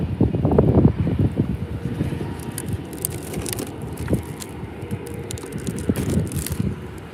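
Wind buffets a camera microphone at Faro Airport, loud gusty rumbling strongest at the start, then continuing in uneven low blasts with faint crackles.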